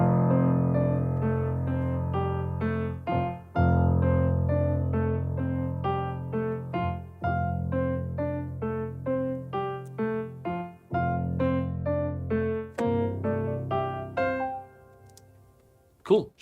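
Christmas-style sketch melody over a sustained low pedal note, the tune moving steadily above a rich, held bass, quietly played alone and fading out at the end.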